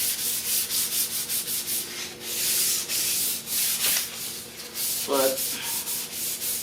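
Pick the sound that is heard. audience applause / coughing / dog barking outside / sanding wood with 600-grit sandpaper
sanding wood with 600-grit sandpaper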